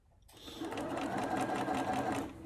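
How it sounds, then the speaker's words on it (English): A sewing machine runs in a steady continuous whir as it stitches along the edge of a fabric mask, starting abruptly and holding close and even throughout. "put my presser foot down, lower my needle, and then I'm just going to sew along the edge"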